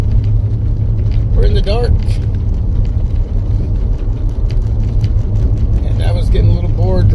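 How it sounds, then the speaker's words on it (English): A car drives at about 30 miles an hour over a layer of ice and snow in an early-morning winter storm, its steady low road rumble running throughout beneath someone talking. "I was getting a little bored driving at 30 miles an hour, so I thought I'd shoot a little video here and chit chat with all of you as I drive on a layer of ice with snow"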